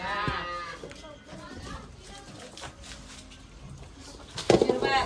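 A dairy cow in a shed moos a few times under nearby talking, with pigeons cooing faintly in the background.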